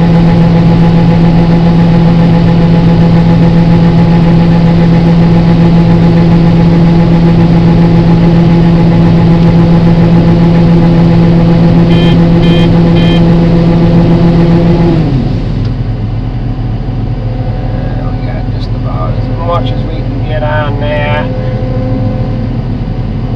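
Tractor towing a loaded grain buggy during a Thanksgiving-day corn harvest, its engine droning steadily close by, then dropping to a lower, quieter pitch partway through, with a few light clanks and talk over it.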